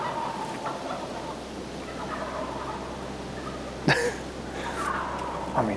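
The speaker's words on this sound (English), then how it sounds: "Turkey's gobbling, trying to stay warm." Wild turkeys gobbling on a cold Iowa morning, heard as a few brief, moderately distant calls rising over a steady low outdoor hum.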